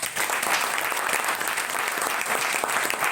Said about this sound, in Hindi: इस लड़की के लिए जोरदार ताली बजाइए